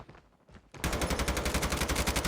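Rapid automatic gunfire in Call of Duty Mobile, a few faint shots first, then a loud sustained burst of evenly spaced rounds close by.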